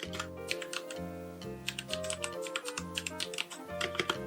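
Rapid typing on a Royal Kludge RK68 hot-swap keyboard in bursts of clicky keystrokes, close and clear, with short pauses between runs and a steady hum underneath.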